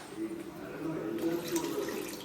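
Water running or being poured in a home kitchen while fish is cooked for a Sunday lunch, a steady close splashing stream lasting a couple of seconds, with faint voices in the background.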